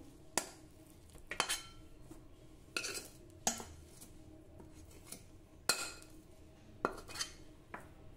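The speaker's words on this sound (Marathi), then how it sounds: "तूप लावलेल्या ट्रेमध्ये हे मिश्रण काढून घेऊ।" Metal spatula scraping and clinking against a pan and greased tray as a cooked saffron coconut burfi mixture is transferred, with several sharp scrapes and taps spaced irregularly, close and fairly quiet, no talking.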